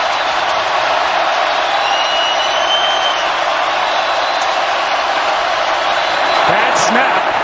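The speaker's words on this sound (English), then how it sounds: "Crowd's going crazy" A stadium crowd at an NFL playoff game roars loudly and continuously, a dense wall of cheering that holds steady throughout.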